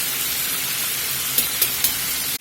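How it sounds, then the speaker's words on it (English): Big buttermilk chicken drumsticks fry in hot oil with a dense, steady sizzle and a few sharp pops and spits near the end, close up and without talk. "frying chicken or frying anything for that matter is about the easiest style of cooking you can do"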